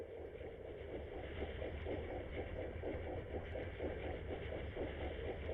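Low, steady rhythmic churning of a merchant ship's propeller and engine, heard underwater through a submarine hydrophone in a video game, pulsing evenly throughout with no voices.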